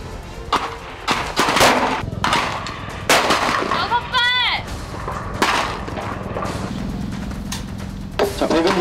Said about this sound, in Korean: 드디어 사격 차례가 다가왔습니다.